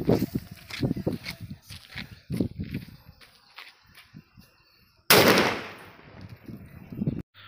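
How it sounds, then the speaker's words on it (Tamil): A 4-inch Valangaiman firecracker is set off outdoors. Scattered small cracks and taps lead up to one sudden, very loud bang that rings and decays over about two seconds. "வெடி வந்து குவாலிட்டி எந்த அளவுக்கு இருக்குங்கிறதையும் நம்ம இப்போ வெடிச்சு பார்க்கலாம்."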